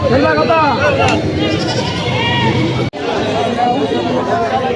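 Goats bleating at a busy livestock market in Jamalpur Chourasta, Gazipur, Bangladesh, with repeated calls over dense crowd chatter and close talking, a brief dropout near the end.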